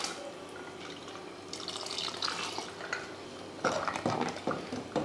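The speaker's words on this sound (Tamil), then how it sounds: "லைட்டாக ஒரு கரண்டி வச்சு மசித்து சேர்த்துக்கோங்க." A ladle mashes and stirs dal into a vegetable curry in a Kerala-style chatti clay pot: close wet squelching and scraping with clinks against the pot, in bursts that grow busier toward the end, no voices.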